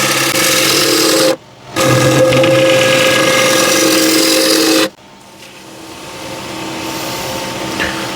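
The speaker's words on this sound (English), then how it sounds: "I'm going to rough it out still with this gouge" A slightly dull gouge roughs out a massive maple bowl on a wood lathe, making a loud, steady tearing roar over a constant motor hum, with two brief pauses where the tool lifts off.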